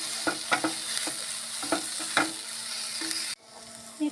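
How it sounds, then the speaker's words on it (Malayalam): Squid masala with coriander powder stirred in a hot pan, rhythmic spoon scrapes and taps over a bright steady sizzle that suddenly drops away near the end, close with no voices. "അര സ്പൂണ് മല്ലിപ്പൊടി. നന്നായി ഇളക്കല്ലേ?"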